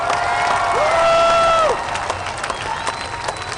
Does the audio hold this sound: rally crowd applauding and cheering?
yes